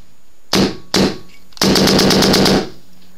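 DLX Luxe paintball marker fitted with a Feather Touch screw, fired outdoors: two single sharp pops followed by a fast rapid-fire burst of about a second, loud and close with nothing else audible.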